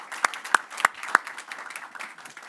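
An audience at a US-Mexico pharmaceutical supply chain panel gives its panelists a thin round of applause: a few distinct, fairly quiet claps spaced about a third of a second apart over a soft room background.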